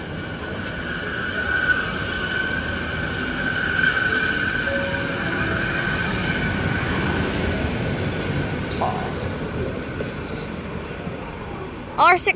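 A train passes through Cambrils station, its steady rumble filling the whole stretch with faint wheel squeal above, while voices carry on nearby, and a brief bump sounds near the end.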